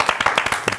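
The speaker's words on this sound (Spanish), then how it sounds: "que es Luis González, a quien recibimos con un fuerte aplauso." A studio audience claps in a quick, near burst of hand claps, brief and fairly loud, with a voice faintly mixed in.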